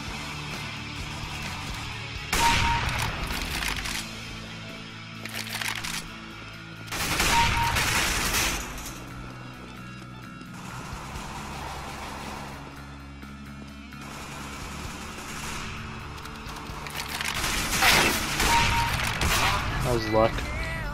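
Pistol gunfire in a first-person shooter game crackles in bursts of shots spaced a few seconds apart, mixed with game noise and a speaking voice.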